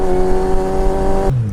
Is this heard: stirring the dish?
no